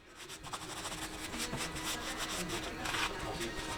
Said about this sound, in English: applying finish to a woodworking project